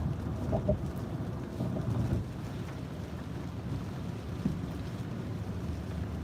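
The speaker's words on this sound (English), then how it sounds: "The wind blowing right across the bay there." Strong wind blowing across a bay, a low, continuous rumbling buffet with gusty swells against the microphone, steady and fairly loud throughout.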